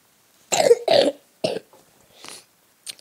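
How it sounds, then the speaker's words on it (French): A man with a heavy cough hacks several times in close succession, three sharp loud coughs followed by fainter wheezy ones, with no other sound around them. "J'ai une grosse toux."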